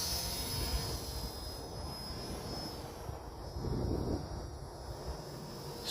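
A Goosky RS4 Legend RC helicopter flies nearby, its steady high-pitched motor whine and rotor hum continuous and moderately faint, with a slight swell midway and light wind noise, no voices.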